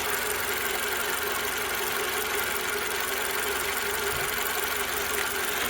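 A car engine idles steadily at close range, a continuous mid-pitched rumble with faint knocking texture and no voices, while a digital test light with load tester is clamped to the battery.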